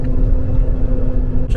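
Road traffic rumbling steadily outside a Super C RV on the way into Whittier, a continuous low vehicle drone heard from inside the cab, with a brief burst of voice near the end.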